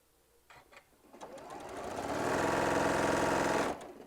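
A sewing machine stitches a quilt panel. It starts with a few short taps, speeds up into a loud, steady whir that holds for a couple of seconds, then stops abruptly. No one speaks.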